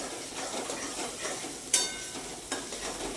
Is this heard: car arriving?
no